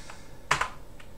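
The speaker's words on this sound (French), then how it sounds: "Vive les touches raccourcis clavier, n'est-ce pas?" A few quick, soft keystrokes tap on a computer keyboard while keyboard shortcuts are entered during a Manjaro Linux installation, faint and close with a short cluster in the middle.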